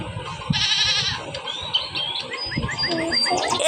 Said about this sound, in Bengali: এ দেখেন, এই যে একটু ফালতু ছাগল,